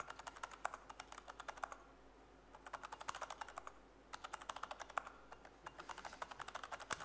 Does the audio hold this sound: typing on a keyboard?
yes